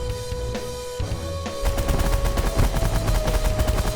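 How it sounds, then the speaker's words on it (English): A warlord ship in the space strategy game The Last Federation unleashes rapid volleys of shots, starting with scattered blasts then swelling into a dense, loud, continuous barrage of overlapping gunfire over a steady electronic tone. "they're like a ship that fires a whole lot of shots at you all over the place"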